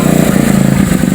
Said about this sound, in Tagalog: maririnig natin na parang galit na yung makina